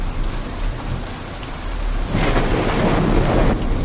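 Heavy rain pouring in a jungle beside a pond as thunder rolls, a dense steady hiss that swells louder partway through with a deep rumble underneath.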